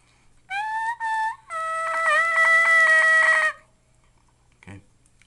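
A turkey hunting mouth call blown with the tongue and air gives two short yelps followed by a longer, wavering call, loud and close, ending with a faint thump.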